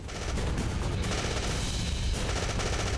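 Rapid gunfire in the video game Afterfall: InSanity, a dense, sustained burst of shots that stays loud and continuous from start to finish.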